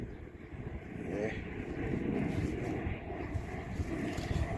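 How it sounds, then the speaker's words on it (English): A propeller plane passes overhead outdoors during metal detecting, a steady broad low rumble that swells slightly and holds through the clip beneath wind noise, with no talking. "Probably hear that plane going by."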